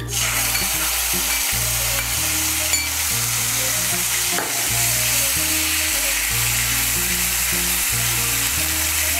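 Ginger, tomato and green chilli paste frying in hot oil gives a steady, bright sizzle with occasional stirring scrapes, held at an even level throughout over a rhythmic, pulsing musical backing.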